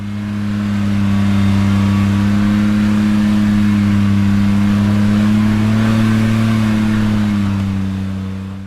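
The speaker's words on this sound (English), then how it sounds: "how high the engine is revving to keep us moving" A Polaris Ranger 1500 side-by-side climbing a hill, its engine held at high, steady revs with a slight rise partway through, loud and close throughout with no talking.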